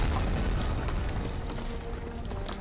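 A Molotov cocktail explodes in the WWII shooter Medal of Honor: Frontline, a loud, sustained low rumbling boom that fills the whole stretch and slowly fades with crackling debris.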